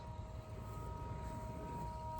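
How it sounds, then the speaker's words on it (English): A faint, distant siren holds a steady tone outdoors behind a fall home garden, continuous and low in the background with no talking. "I don't know what's going on in the background, but there's some siren going on"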